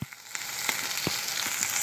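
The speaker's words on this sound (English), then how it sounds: "as the chorizo is frying up" Chorizo fries in a pan with a steady, close sizzle and a few sharp pops and crackles over a brief stretch, no voices.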